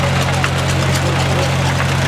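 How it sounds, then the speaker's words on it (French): A 1955 McCormick Farmall F235B tractor engine idles with a steady low throbbing rumble, close and loud, under a mix of outdoor noise. "C'est Michel Thibault qui klaxonne sur un tracteur McCormick Farmal F235B."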